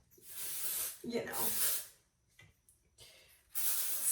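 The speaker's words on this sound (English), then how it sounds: "Let's put in some texture spray" Texture spray hisses onto hair in three aerosol bursts, loud and close, and a person speaks briefly between the sprays.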